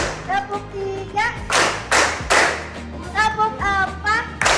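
Classroom pupils clap along in a rhythmic tepuk counting game, several loud synchronized claps in bursts under a teacher's chanted voice and children's voices.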